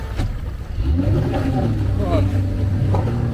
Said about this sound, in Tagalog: Ang lakas ng motor nila.